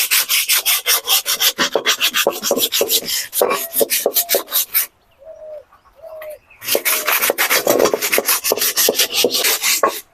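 Sandpaper scrubbing a black iron wok, warm from the stove, with loud rapid rasping back-and-forth strokes that pause briefly while a dove coos in the background, then resume.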